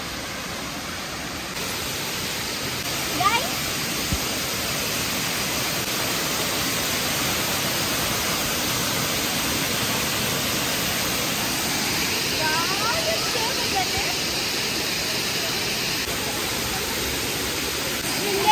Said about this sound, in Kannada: ಸಿರಿಮನೆ ಫಾಲ್ಸ್ ಶೃಂಗೇರಿ